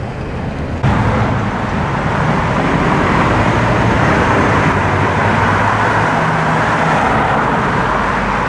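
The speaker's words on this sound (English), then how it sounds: "Sick black Testarossa." A black Ferrari Testarossa drives through New York City traffic with a loud, steady roar of engine and road noise that swells in as it passes close by.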